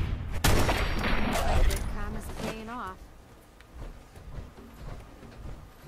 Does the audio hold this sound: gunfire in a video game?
yes